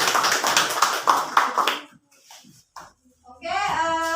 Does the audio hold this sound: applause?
yes